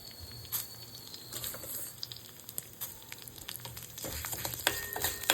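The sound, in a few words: urad dal and fenugreek seeds frying in a pan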